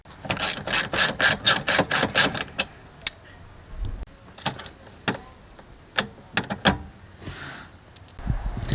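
A 12mm bolt is taken out with a ratchet during a car boost gauge install: a quick run of sharp, evenly spaced ratchet clicks, then slower scattered clicks and metallic handling noises, close and without speech.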